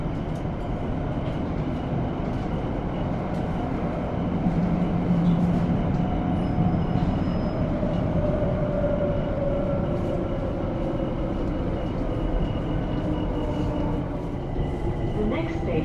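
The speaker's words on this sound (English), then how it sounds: "obviously these trains move a lot faster than the other underground ones did" A London Overground Windrush line train runs between stations with a steady rumble, rattle and hum of wheels and carriage throughout, a voice speaking over the noise.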